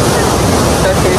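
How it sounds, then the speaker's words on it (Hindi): Fast-flowing river or stream water near a village, a loud continuous broadband rush with no breaks, close to the listener and dominating throughout. "पानी बहुत तेज है"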